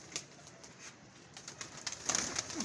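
A pigeon at a pigeon club coos softly and close by, with a low rolling call near the end over faint background rustle.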